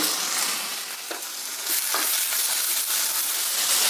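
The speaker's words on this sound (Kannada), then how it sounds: "ಇದನ್ನು ಇವಾಗ ಚೆನ್ನಾಗಿ ಬಾಡಿಸ್ಬೇಕಾಗುತ್ತೆ" Garlic cloves and green chillies sautéing in a spoonful of oil in a pan give a steady, close, hissing sizzle, with faint stirring scrapes of a spoon, and no one speaking.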